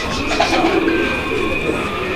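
A male fancy pigeon at a Bangladeshi pigeon farm coos in a low, steady murmur, held close and audible alone across the short stretch with no voices.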